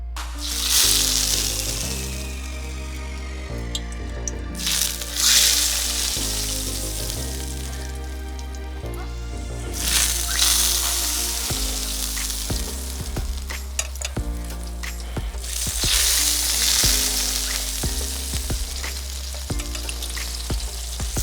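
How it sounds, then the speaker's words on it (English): Loud sizzling and frying flares up in repeated waves as hot grease is ladled onto pork belly, crackling continuously close by with music-like tones underneath. "we're going to start ladling our grease on"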